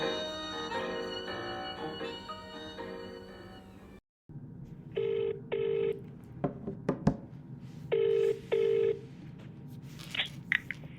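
An outgoing telephone call placed from Melbourne: keypad dial tones and short beeps, then two evenly spaced bursts of ringback tone over a low line hum, following a few seconds of music.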